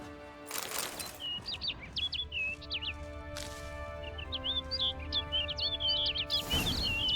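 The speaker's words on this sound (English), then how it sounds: "Oh, there's a bird." A songbird in The Witcher 3: Wild Hunt chirps in quick, bright trills and twitters over steady orchestral game music, with brief whooshing swells, close and clear.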